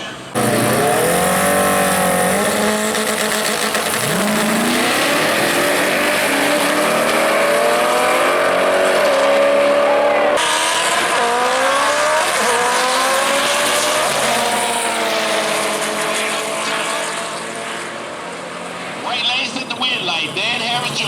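A drag race between a Honda Civic and a 2000 Ford Mustang at Worldwide Technology Raceway, with loud engines revving and climbing through gear changes in long rising sweeps, then fading, while an announcer talks over it.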